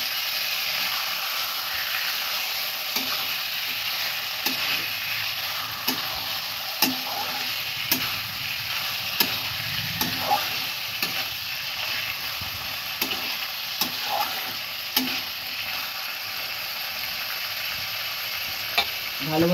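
Marinated chicken sizzles in a pan for dhaniya chicken, loud continuous frying with regular spatula taps as it is stirred.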